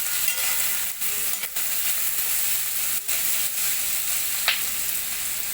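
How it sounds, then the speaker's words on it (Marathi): Cashews sauté in a pan for a hotel-style Veg Kolhapuri, with a dense, continuous hiss of frying oil and occasional short scrapes and taps as they are stirred. "त्याच्यामध्ये आता हे काजू थोडे परतून झाले की आपण त्याच्यामध्ये टमॅटो घालून घेणार आहोत."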